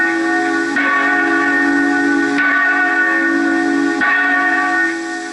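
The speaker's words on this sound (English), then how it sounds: "Okay, a Liberty Bell." A tolling bell rings in long sustained strokes, each with a sharp attack and a droning, hissing tail, the strikes about every one and a half seconds, loud and alone.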